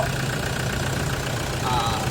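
A 2013 Toyota Hilux Vigo 2.5 diesel pickup engine idles with a steady low rumble and slight knocking, heard up close at a constant level.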